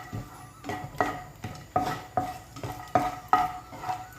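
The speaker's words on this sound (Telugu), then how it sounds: "నేను కట్ చేసుకున్న జీడిపప్పు, బాదం పప్పు వేసేసుకుంటున్నాను. ఇవి మంచిగా నేతిలో ఫ్రై చేసుకోవాలండి" Cut cashews and almonds frying in ghee in a pan while being stirred, a steady rhythmic scraping of a spoon against the pan roughly every half second over a soft sizzle, close by.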